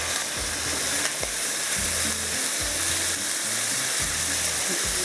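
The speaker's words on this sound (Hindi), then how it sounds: "जब तक हमारा चिकन जो है वो यहाँ पर फ्राई हो रहा है गार्लिक के साथ" Chicken and garlic sizzle in a hot pan for garlic fried rice, a dense, steady hiss close by with recurring scraping thumps of stirring.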